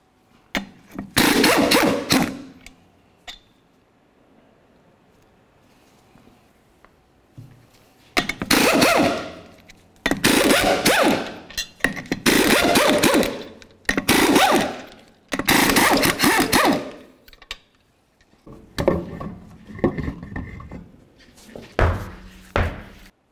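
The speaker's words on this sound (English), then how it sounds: "remove all six of our 19mm lug nuts and then the wheel" Loud bursts of a power impact tool spinning off the 19mm lug nuts on a GMC Sierra 1500 wheel, several separate rattling runs with short quiet gaps between them.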